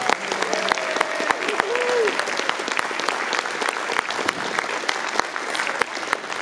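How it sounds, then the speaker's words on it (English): An audience at a city commissioner candidates forum in a civic center claps for the candidates, steady broad applause with a few sharp individual claps standing out and a brief faint tonal voice-like trace near the start. "can I have an extra big round of applause for all of the candidates who participated tonight"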